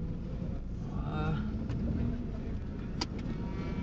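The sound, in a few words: car engine idling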